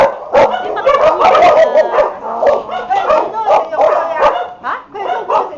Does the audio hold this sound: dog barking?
yes